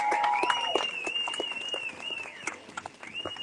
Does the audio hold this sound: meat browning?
no